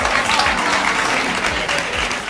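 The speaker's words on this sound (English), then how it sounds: "See how the women in the crowd are like applauding this type of simp-like behavior?" A studio audience at a paternity-test talk show applauds, a dense, loud burst of clapping with no pause across the short stretch.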